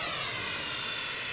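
A steady jet engine roar from a Sud Aviation Vautour in the flight simulator game Flight Simulator X, a constant sustained whine and rumble, loud and unbroken with no speech.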